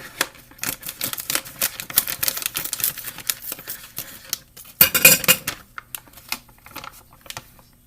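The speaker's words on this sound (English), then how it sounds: "Get the scissors and cut this open and pour the shrimp in." Scissors snip open a plastic shrimp package in a home kitchen and shrimp are poured into a pot, giving a busy run of small clicks, crinkles and rattles close by, with a denser burst of clatter partway through.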